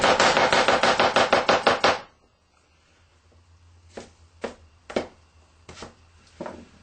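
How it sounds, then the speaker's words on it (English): A knife cuts vegetables on a board while they are skinned. About ten rapid, crisp chops come first, then a quiet gap, then five or six slower, scattered cuts. "we are skinning as we go"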